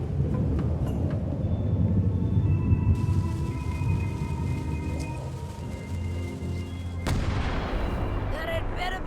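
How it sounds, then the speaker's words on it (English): Cannon fire in the Return to Monkey Island video game comes as a deep rumbling boom over a game soundscape, followed by a sharp crack and scattered rattling debris near the end. "Ready for cannon firing."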